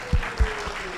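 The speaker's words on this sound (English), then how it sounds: "a round of applause for my clicker" A lecture audience applauds briefly during a talk on stone walls, with a steady wash of clapping and a couple of low thumps over about a second.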